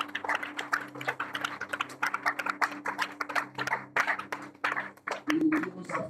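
A church congregation applauds, with quick, uneven hand claps close by over a low sustained musical hum, building into louder bursts near the end.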